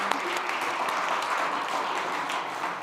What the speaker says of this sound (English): Bigger round of applause.